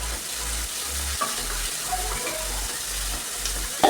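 Chopped onions fry in a hot pan with a steady, close sizzle and occasional stirring scrapes, continuous throughout with no talking.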